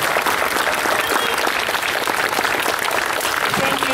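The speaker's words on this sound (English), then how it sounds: "Please give them a round of applause" Steady, dense applause from a crowd at a Flag Day ceremony, loud and continuous throughout with no voices standing out.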